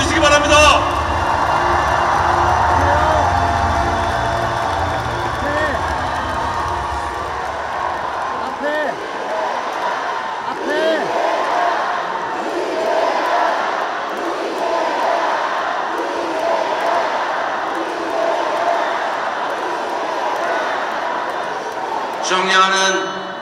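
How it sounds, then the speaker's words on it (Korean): A large crowd at a Democratic Party presidential nominee announcement event applauds and cheers, a loud sustained roar of clapping and voices filling the hall for over twenty seconds. "박수로 맞이해 주시기 바랍니다."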